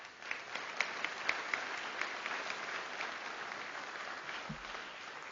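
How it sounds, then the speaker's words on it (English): An audience at a spring university convocation applauds School of Education staff, a sustained, fairly distant wash of many hands clapping, with a few sharper individual claps standing out near the start. "let's give a round of applause to them"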